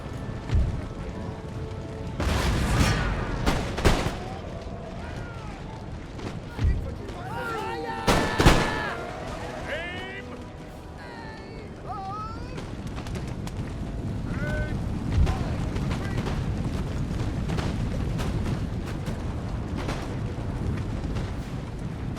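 Artillery and gunfire rumble through an Empire: Total War siege, with booming shots spaced unevenly, a dense dip in the middle, and chirpy game effects scattered through a steady battle bed, a voice talking over parts of it.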